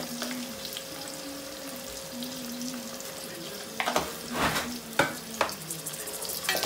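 Ripe tomatoes sautéing in a pan for a taro tamarind curry, a steady sizzle with a faint hum, then several louder scraping stirs near the end.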